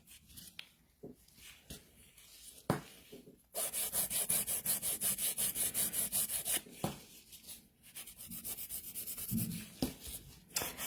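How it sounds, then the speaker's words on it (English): A file works over sculpted gel nails in repeated rhythmic strokes, with a fast, steady burst of filing in the middle and slower, scattered rubs around it, all close and clear with no talking. "I definitely use the center as a guideline too when I'm filing, to make sure that, you know, I'm shaping nice and straight"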